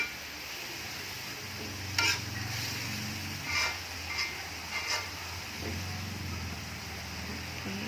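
Mushrooms cook in a pan, releasing their water, with a soft, steady sizzle and a few brief scraping knocks as they are stirred.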